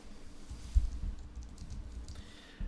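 A computer keyboard is typed on in a quick, irregular patter of soft, close clicks, fairly quiet against a low background hum, with no talking.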